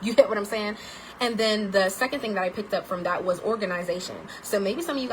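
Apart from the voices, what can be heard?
No distinct noise like a dog, phone or traffic.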